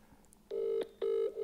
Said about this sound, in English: I'll phone William.